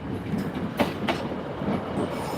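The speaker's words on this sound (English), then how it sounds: "And that's my train home." Train passing through Doncaster railway station, a close, steady rolling rumble with rhythmic clickety-clack of wheels over rail joints and a few sharper metallic knocks, no talk.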